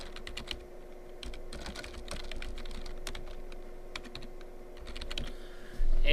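Close, quick keystrokes on a computer keyboard patter in uneven bursts as a message is typed, fairly quiet and with no talk over them.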